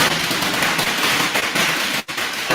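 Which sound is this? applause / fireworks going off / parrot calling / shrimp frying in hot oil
fireworks going off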